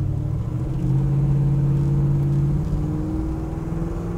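A 1970 Chevrolet Nova engine running steadily, a deep, close, continuous rumble with a droning hum and slight rise in pitch, no talking over it.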